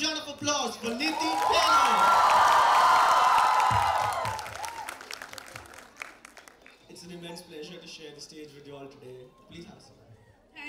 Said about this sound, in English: Please give a huge round of applause for Niti.